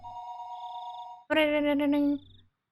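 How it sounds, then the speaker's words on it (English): A telephone rings in two bursts, first a steady electronic tone, then a louder, harsher ring that stops abruptly, close and alone with no talk. "the phone began to ring again"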